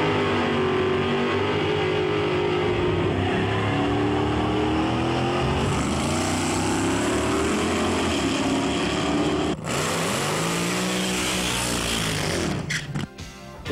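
Race car engines roar loud and sustained on a drag strip, the note climbing and shifting as the cars accelerate, with a sharp break near the end and no talking.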